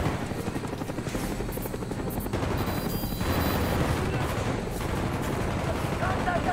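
Helicopter rotors thump steadily while rapid machine-gun bursts and gunfire crackle over them in a Call of Duty Black Ops battle, loud and continuous, with a voice talking underneath.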